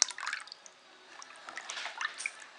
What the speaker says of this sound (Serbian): Stavimo tu sok od jednog limuna.